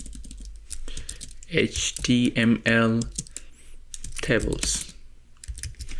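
Keystrokes on a computer keyboard tap in quick irregular runs while someone writes HTML, with someone talking over much of the typing at moderate, close range.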